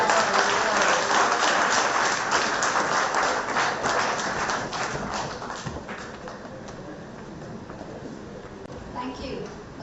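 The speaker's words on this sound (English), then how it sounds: "I see the applause getting a little heartier and heartier" Audience applause at a 75th birthday celebration in a city hall auditorium, loud and sustained dense clapping that grows slightly thinner toward the end, with some voices mixed in.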